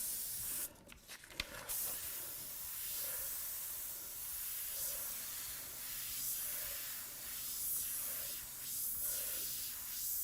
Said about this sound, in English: If it's too wet, spray a little bit of air and then go back